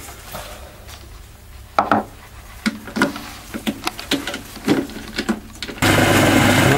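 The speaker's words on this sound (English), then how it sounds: "he's just changing the jaws on the chuck" Metal jaws being changed on a lathe chuck in a workshop, a scattered series of sharp metallic clanks and taps at irregular intervals, close by, followed by a sudden steady broadband rushing noise.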